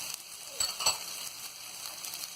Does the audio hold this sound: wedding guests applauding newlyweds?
no